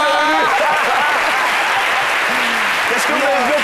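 Studio audience applause on a French midday television talk show, steady and loud throughout, with voices speaking and laughing over the clapping.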